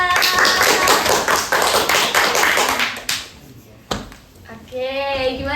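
Audience clapping at a campus event, a burst of many hands for about three seconds that fades out, followed by a sharp tap and a voice starting to speak.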